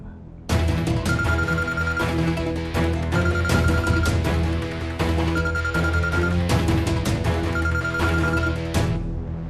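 A mobile phone ringtone plays loudly and continuously indoors, a repeating melodic tune with a steady beat that loops several times before cutting off near the end.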